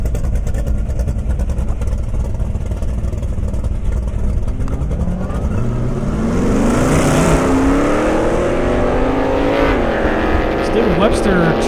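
Drag racing cars, including a Mustang, a Challenger Superstock and a Nova SS, roar loudly at an airstrip drag event, engines rising in pitch as they accelerate past, with an announcer talking over the noise.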